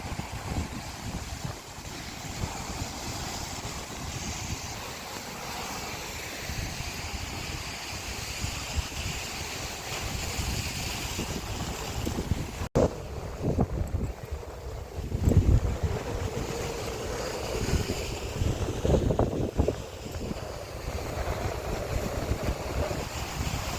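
Loud wind buffeting a microphone over a constant roar of sea surf in Mumbai, with heavier gusts and crashing waves surging now and then.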